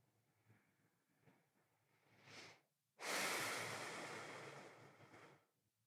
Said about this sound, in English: 5 full breaths here.